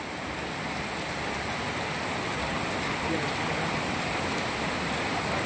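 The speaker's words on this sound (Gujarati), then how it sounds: "એક ધારો વરસાદ ચાલુ હોય અને હેલાડું કહેવાય" Continuous monsoon rain pours steadily in Gujarat as a dense, unbroken hiss of falling water, loud and close throughout with no pauses.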